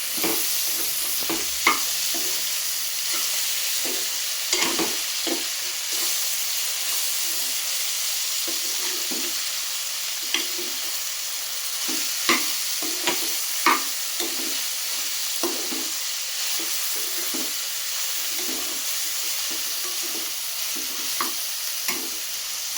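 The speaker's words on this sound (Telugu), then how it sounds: "అప్పుడు మాంసం వేసుకుందాం. ముందే వేస్తే అసలు బాగుంది. అలా ఒక 5 నిమిషాలు పడుతుంది. బాగా కలిపేసుకుని మూత పెట్టి మగ్గనిద్దాం." Mutton and broad beans curry being stirred in a pot, Andhra style, with a steady hissing sizzle and frequent rhythmic spoon scrapes and taps against the pot throughout.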